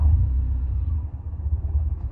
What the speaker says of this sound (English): we're now running on hydrogen gas